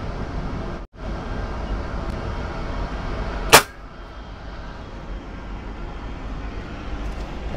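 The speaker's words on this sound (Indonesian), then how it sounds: "Tembakan pertama ya teman-teman." A single sharp gunshot aimed at a plastic target, a loud isolated crack standing out over steady background noise, with no talk.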